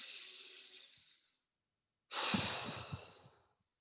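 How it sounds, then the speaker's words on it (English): A long, slow exhale fades out, then after a short pause a deep breath is drawn in and released, with a soft airy rush close to the microphone and no talking. "I want you to take a big inhale."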